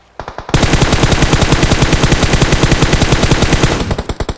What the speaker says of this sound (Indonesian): kenapa aku berhenti menembak?